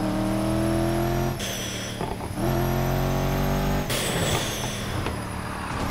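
A car engine in the racing game Need for Speed Heat roars loudly and continuously, revving up through gears with brief dips between shifts, close and up front with no voices.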